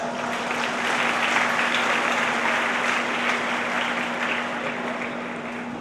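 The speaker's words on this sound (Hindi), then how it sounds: "एक बार जोर से इनके अभिनंदन में तालियां बजाएं।" Crowd applause at an outdoor International Yoga Day event in Karnal following a short yoga performance, a loud, sustained wash of many people clapping with a steady electrical hum beneath.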